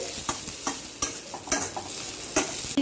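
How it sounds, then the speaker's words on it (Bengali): Chopped onion frying in hot white oil in a wok over lowered heat, a continuous sizzle punctuated by repeated scraping and clanking stirs of the spatula, close up, with no speech. "এবার দিয়ে দিচ্ছি পেঁয়াজ কুচি ছেড়ে পেঁয়াজটা একটু নাড়াচাড়া করে নিচ্ছি"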